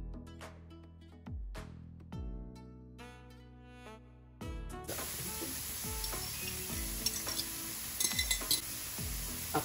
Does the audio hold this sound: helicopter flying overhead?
no